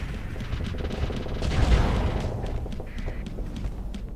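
Big missiles launch in the Starsector space game, a rumbling boom that swells and fades over a few seconds with scattered lighter firing sounds around it.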